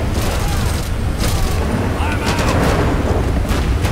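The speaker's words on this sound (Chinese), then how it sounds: "所以我要先开枪打他们，他们才会攻击那些僵尸。" Bursts of gunfire in a GTA 5 zombie mod game, rapid overlapping shots and booms filling the whole stretch with a dense, loud crackle under a player's voice.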